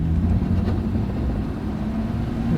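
A Jeep engine revving hard as the accelerator is floored, a loud steady low roar close by with no talk.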